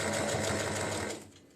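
A sewing machine stitching linings into granny square totes runs in a fast, steady whir close by, then slows and stops near the end.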